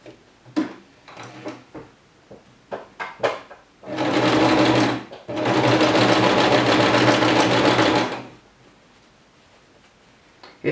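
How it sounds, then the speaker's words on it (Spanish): A domestic sewing machine runs a seam across flamenco dress ruffles, with a steady close whirring burst of about four seconds, a brief pause, then another long run. Scattered clicks and handling noises come before it. "vamos a pasar un pespunte por el revés, por esta zona"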